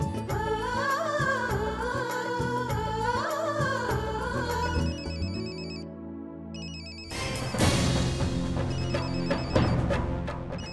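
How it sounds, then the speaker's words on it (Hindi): A telephone rings in a domestic television drama scene, a repeating electronic ringtone blended with dramatic background music and swelling score, fairly loud throughout with no speech. "देख तो किसका फोन है?"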